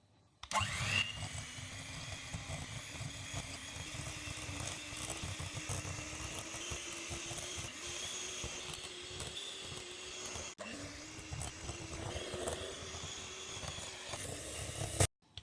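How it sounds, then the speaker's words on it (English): An electric hand mixer whirs steadily while beating sugar, vanilla and butter into a creamy pound cake batter, a motor drone that starts abruptly, dips briefly midway, then runs on before cutting off, close and alone. "Now using an electric hand mixer, or you could use electric stand mixer to make it nice and fluffy and creamy."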